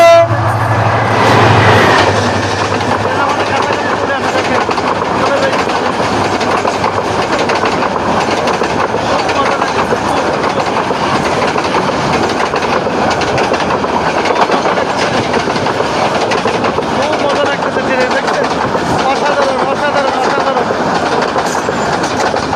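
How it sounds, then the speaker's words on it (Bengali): A train approaches and rolls past at a railway station, its loud rumble and clattering wheels steady for the whole stretch. A short horn-like tone sounds near the start. "ট্রেন আমাদের কাছাকাছি চলে আসছে"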